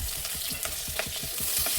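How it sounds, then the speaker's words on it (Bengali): Tengra fish frying in hot oil, a steady close sizzle with rhythmic stirring or scraping strokes, no speech. "ট্যাংরা মাছগুলো খুবই ভালো করে সাবধানে ভাজার চেষ্টা করবে, কারণ ট্যাংরা মাছগুলো খুবই ফোটে।"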